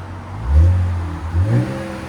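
Two quick throttle blips from a 2026 RAM 1500 3.0L Hurricane I6 through a Flowmaster Super 10 exhaust, low droning growls rising and falling over a steady idle, loud and nearby.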